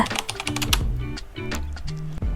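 Keys tapped in quick bursts on a computer keyboard while searching for templates in the CapCut editor, the light clicks set against steady background music.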